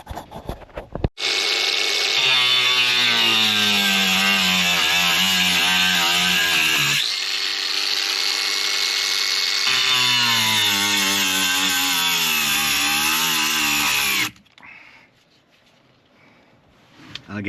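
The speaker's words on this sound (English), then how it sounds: "take the grinder and I'll just make a cut through and it'll work" A grinder cuts through board and batten siding on a house build, a loud continuous whining bite that runs for about thirteen seconds with a short dip in the middle, then stops into quiet.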